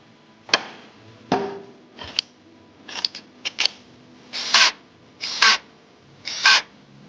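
Cylinder head bolts on an Audi EA837 engine are tightened to a set torque, giving a series of sharp metallic ratchet clicks and clacks, some in short bursts, spaced out in a quiet workshop with no talking.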